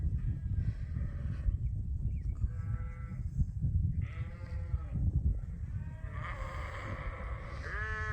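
A flock of about 200 ewes running out of a barn bleats over a steady rumbling, shuffling din, calls overlapping and rising near the end.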